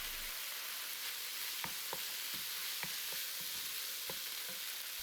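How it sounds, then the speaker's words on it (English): Pork filling seasoned with chicken bouillon stirred in a frying pan: steady low sizzle throughout, with about a dozen soft scrapes and knocks of the spatula against the pan at irregular intervals, close and quiet. "give it a good stir"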